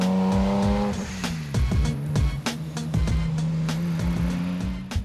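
Toyota Supra with an HKS twin-turbo engine revving and shifting on a winding road, with a close, loud engine note rising and falling as the throttle is blipped repeatedly.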